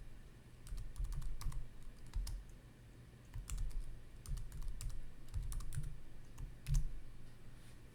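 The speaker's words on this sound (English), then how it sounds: "I can add text like, oh, let's see, let's type" Typing on a computer keyboard, quick irregular bursts of close key clicks with short pauses between them, quiet and alone.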